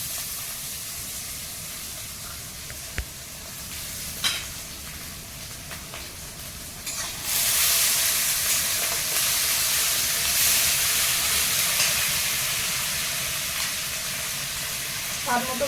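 Ginger garlic paste hits onions frying in a pan, and a quiet background sizzle jumps to a loud, steady hissing fry that stays up close, with a few clinks of a utensil.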